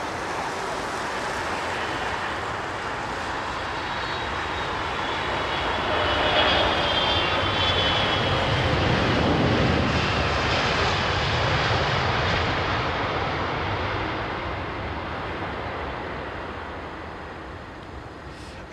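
A jet airliner arriving at a snowy London Heathrow Airport, its engine roar swelling from a distant rumble to a loud, broad whine near the middle before slowly fading, with no talking.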